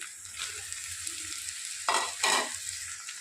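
A spatula stirs spring onion egg fry in a hot pan, with a steady sizzle of frying throughout and two louder scraping stirs near the end.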